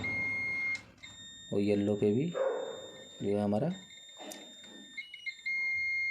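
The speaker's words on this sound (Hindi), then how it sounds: "बीप आ रही है।" A multimeter gives a steady high-pitched continuity beep while probing the shorted power connector pins on a Foxconn/Wipro G31 motherboard. The sustained tone runs under and between a man's speech.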